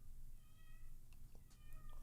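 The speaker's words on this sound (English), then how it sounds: "it's the cats" Cats meow faintly in the background, a few short thin cries scattered over about two seconds against a low room hum, with no talk over them.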